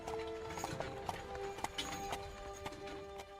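Horse hooves clip-clopping at a steady walking rhythm as a horse-drawn carriage rolls along, moderately close over a soft background hum.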